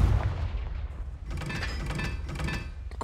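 Confringo, an explosive spell in the Hogwarts Legacy video game, goes off as a loud burst followed by rumbling booms and crackling blasts that continue for about three seconds.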